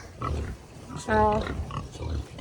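Pigs grunting on a farm, an agitated mother sow among them, with low repeated grunts and one louder, tonal squeal in the middle, close by with people talking.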